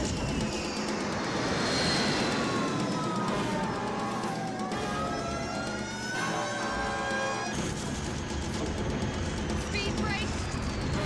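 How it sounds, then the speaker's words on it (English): Airliner on its landing roll with thrust reversers deployed and speed brake up, a steady loud roar carrying rising and falling whines under a high-pitched squeal, continuous through the whole stretch. "Now they are trying to stop that plane with everything they have."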